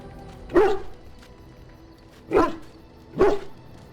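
A dog in the video game Dragon Age: Origins lets out three short, clear barks, spaced unevenly over a few seconds, moderately close above a low background hum with no talking.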